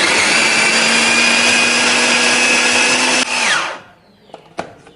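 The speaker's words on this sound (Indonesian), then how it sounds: "Kemudian dada ayamnya akan kita giling." An electric chopper grinds chicken breast with a loud, steady motor whine for about three seconds, then spins down and stops, followed by a few faint knocks as the bowl is handled.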